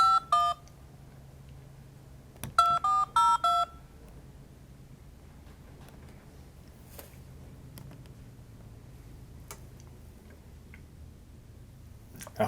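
Telephone keypad tones ring out during a cold call, a single beep followed by a quick burst of several dialing tones, then a long quiet line hiss with faint ticks.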